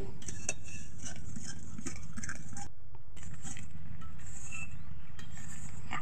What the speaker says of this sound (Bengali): মিডিয়াম আঁচে রেখে এটাকে ভালোভাবে মিশিয়ে নিতে হবে